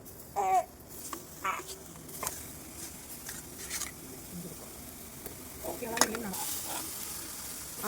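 Cooked chana dal, pressure-cooked until soft, added to a hot pan and stirred, giving a low steady sizzle with a few scraping stirs and a brief clatter, close and quiet, with no talking.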